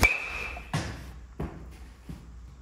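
A blue BBCOR baseball bat striking a ball, heard as three or four sharp, separate cracks spaced under a second apart, each with a short ringing decay, fairly close with no talk.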